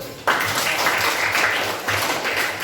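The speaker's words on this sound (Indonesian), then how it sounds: "Tepuk tangan dulu." Students in a classroom break into applause, a sudden burst of fairly loud, mixed clapping that carries on steadily with slight swells.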